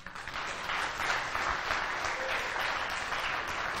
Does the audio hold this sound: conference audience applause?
yes